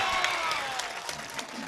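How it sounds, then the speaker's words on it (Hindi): Steady applause from a crowd at an All India mushaira poetry gathering, a continuous wash of many clapping hands with faint cheering mixed in, no speech over it. "अब एक बार जोरदार तालियां बजा दीजिए"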